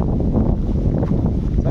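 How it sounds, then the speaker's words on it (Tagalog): Strong wind at a fish corral on open water buffets the microphone in a steady, low roaring rush, with a faint watery wash beneath it. "Ngayon, napakalakas ng hangin."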